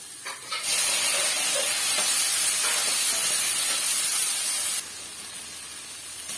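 Chopped tomatoes hit a hot pan for murungai keerai (drumstick leaf) soup, setting off a loud, steady sizzle that jumps up suddenly and holds for about four seconds before easing to a softer hiss.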